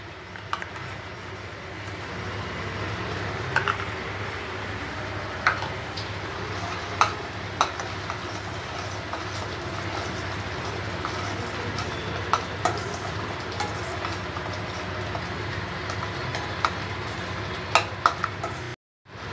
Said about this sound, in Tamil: இப்போ இது நல்லா கொதித்து வருது.